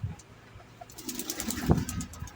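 Pigeons coo softly at a loft during feeding time, with low murmuring calls building near the end and some faint fluttering in the background.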